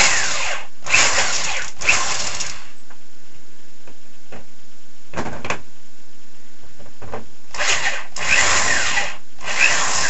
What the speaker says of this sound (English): It's very, very easy to crack, especially if you're drilling near the edges.